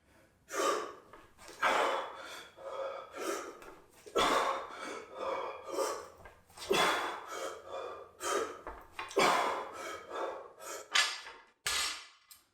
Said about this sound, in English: So that's what the breath cadence will sound like.